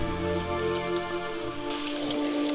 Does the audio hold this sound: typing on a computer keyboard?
no